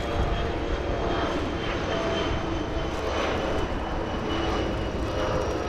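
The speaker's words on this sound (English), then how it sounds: "Let's go to the Dreamliner though. Very loud though." A Boeing Dreamliner jet departs Los Angeles International Airport with a very loud, steady engine roar that fills the air continuously and close by, without letup.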